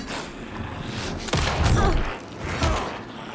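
Video game gunfire from Alan Wake 2: a dense, loud burst of shots erupts partway through over a rumbling game soundscape, with a second flurry near the end.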